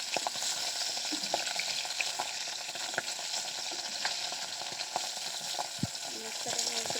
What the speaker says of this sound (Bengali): মাছগুলোকে আমি হালকা করে ভেজে নেবো